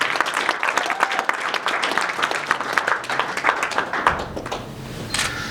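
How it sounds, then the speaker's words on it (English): An audience at a press conference for the BAMMA 11 MMA event at the NIA in Birmingham gives a burst of lively, sustained applause. Camera shutters click through it, and it fades near the end. "Mr. Tom Breeze. Guys, just give him a big round of applause."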